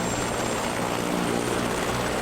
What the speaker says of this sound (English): This is a Eurocopter A-Star AS350B2.